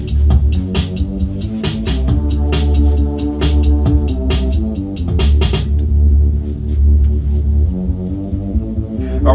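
A looping electronic funk groove from a BOSS DR-5 drum machine, with a deep, throbbing bass line and steady percussive hits, played continuously at a consistent loud level.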